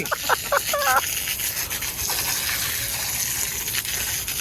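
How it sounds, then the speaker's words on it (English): High-pressure water sprays steadily at a tire shop to wash blue residue off, a close hissing rush with brief squeaky rubbing at the start. "They got a lot of water pressure, Bean."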